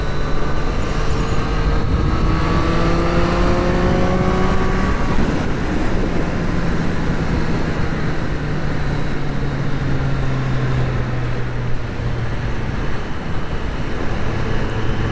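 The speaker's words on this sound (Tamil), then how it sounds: "ஸோ 6000 RPMக்கு மேலே போகும்போதெல்லாம் என்னோடய வெயிட்டுக்கு வண்டி வந்து பறக்குது அப்படியே." A Triumph Street Triple RS motorcycle being ridden, its engine tone climbing through the revs under a loud, constant rush of wind, then settling into a steadier drone as the ride continues.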